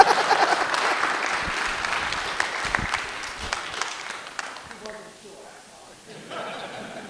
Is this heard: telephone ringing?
no